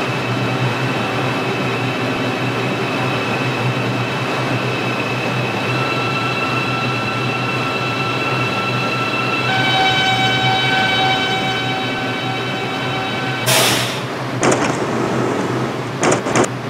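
Interior hum and whine of a New York subway 6 local train in a mobile Subway Simulator game, steady and close, followed near the end by a sharp burst and brief clunks like doors or braking.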